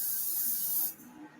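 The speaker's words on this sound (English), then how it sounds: "So what we're gonna do is we're gonna spray the pan." A short burst of cooking spray hisses onto a baking pan in a home kitchen, one soft steady spray close by that stops sharply, followed by faint quiet handling.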